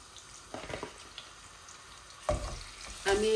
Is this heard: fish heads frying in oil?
yes